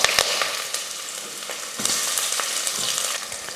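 Onion, cinnamon, cardamom, cloves and bay leaf sauté in hot oil, giving a loud, continuous close sizzle with crackles and occasional stirring scrapes throughout.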